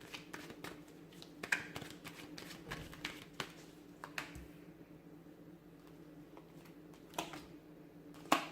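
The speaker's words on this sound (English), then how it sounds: "I'm going to give the cards a shuffle" Tarot cards are shuffled by hand in a quiet room, giving soft, scattered riffling taps and flicks at close range with pauses between bursts.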